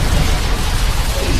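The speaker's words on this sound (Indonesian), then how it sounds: "lalu meledak" A loud, dense blast from an explosion in the action film Hitman (2007), a continuous roaring wash of noise with heavy low rumble and no speech.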